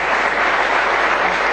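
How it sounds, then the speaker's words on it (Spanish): An audience applauds the Leonas women's hockey team, a steady, even patter of many hands clapping at moderate loudness without pause. "también un aplauso para las Leonas"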